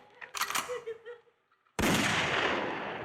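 A gunshot sound effect in a stage comedy sketch goes off as one sudden loud blast with a long, noisy tail after a few seconds of voices talking.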